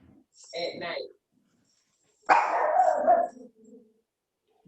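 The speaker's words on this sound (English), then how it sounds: "The dog agrees." A dog barks and yips twice close to the microphone, a short bark followed by a longer, louder one, during an online poetry slam gathering.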